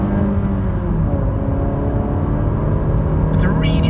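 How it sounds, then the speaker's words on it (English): A 2019 Honda HR-V i-VTEC engine drones steadily under load, its pitch shifting as it pulls through gears, with a brief higher whine near the end. "Let's have a look, see how it accelerates."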